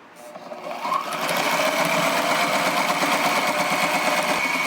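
A sewing machine stitches compound pleats around a tight radius, its needle speeding up into a steady, rapid mechanical whir that runs close and unbroken.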